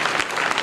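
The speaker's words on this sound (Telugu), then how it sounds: "ఒకసారి గట్టిగా చప్పట్లతో చిన్నారిని" Audience applause for a child's stage play at a theatre's 35th anniversary event in Nizamabad, a brief, dense burst of many hands clapping at once.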